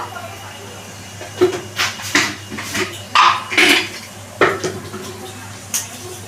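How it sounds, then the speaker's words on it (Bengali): A spatula stirs whole garam masala, bay leaves and dried chilli in a kadai, giving a series of irregular metallic scrapes and clanks against the pan over a low background, with little sizzle audible. "দিয়ে এটা একটুখানি আমি নাড়াচাড়া দিয়ে ভেজে নিচ্ছি"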